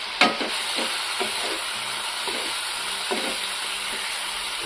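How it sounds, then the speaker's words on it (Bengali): Spices with turmeric and chili stir-fried in oil for a vegetarian potol paneer: a steady sizzle-hiss with repeated scraping stirs at a regular rhythm, close and clear, with no talking. "এরপর হলুদ দিয়ে এটা একটু ভালো করে কষতে হবে, যতক্ষণ না মশলাটা তেল থেকে ছাড়ছে।"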